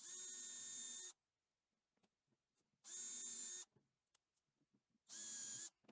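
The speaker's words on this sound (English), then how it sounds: "I'm going to pre-drill some holes in our circles, so we've got somewhere to actually hang them." A power drill pre-drills holes in cured epoxy resin circles made as hanging Christmas decorations, running in three steady whining bursts of about a second each, with quiet handling noise in the gaps.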